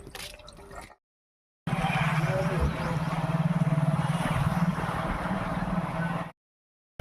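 A motorcycle rides toward a market, its steady engine drone and road rush heard close and continuous through the middle, with a short gap of silence before it and an abrupt stop at the end.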